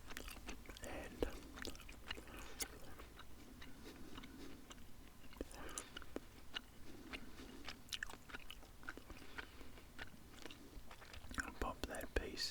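Chewing gum is worked softly and steadily in the mouth, with faint wet clicks and smacks close to the microphone under quiet whispered speech.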